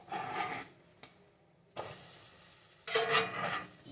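French toast sizzles steadily in a hot pan, dropping briefly as the slices are lifted and flipped, then surging back to a loud, close frying hiss when they land again.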